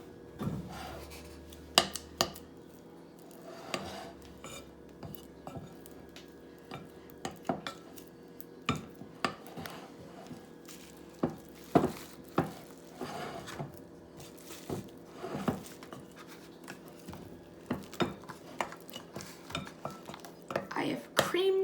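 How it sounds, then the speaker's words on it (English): A whisk creams shortening in a bowl with rapid, uneven scraping clicks and taps against the sides, going on throughout at close range. "So cream it well with a whisk"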